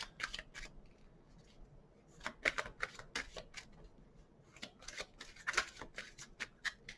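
Tarot cards are shuffled by hand in quick bursts of crisp riffling and slapping, close and fairly soft, with short pauses between clusters of flicks.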